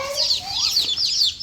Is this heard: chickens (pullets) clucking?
yes